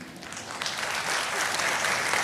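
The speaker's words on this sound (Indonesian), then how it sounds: "mau tepuk tangan?" Church congregation clapping during a sermon, a dense wash of applause from many hands that swells slightly and holds steady, no voices over it.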